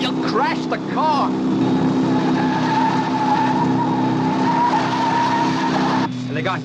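Tires squeal in a long, sustained skid from a car in the Thunderbirds episode, loud and continuous, with a whooping cry at the start and an abrupt cutoff near the end.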